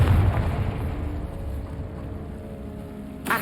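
A Confringo spell explosion in Hogwarts Legacy erupts as a loud, low rumbling boom that fades into a crackling, rain-like wash over about three seconds, ending in a short sharp burst.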